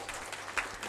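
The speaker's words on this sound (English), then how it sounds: "I think we can have a much louder applause" Brief burst of audience applause in a conference hall during a social work conference's valedictory session, faint and distant, swelling slightly near the end.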